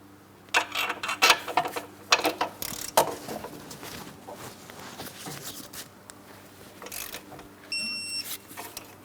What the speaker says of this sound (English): Got my torque wrench.